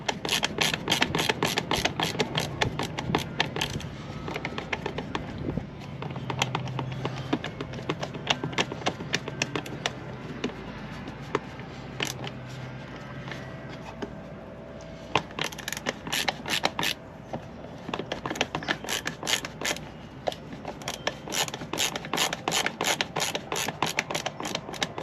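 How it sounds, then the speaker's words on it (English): Repeated clicking and ratcheting as a screw is driven by hand into the LED light housing of a 2023 Hisun Axis 500 4x4 UTV, close and rhythmic with scraping rubs between turns. "Put that screw back in."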